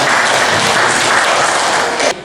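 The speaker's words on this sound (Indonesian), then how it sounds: "Tepuk tangan untuk teman kita." Students in a classroom applaud a classmate after a presentation, a loud, full burst of clapping that cuts off abruptly just before the end.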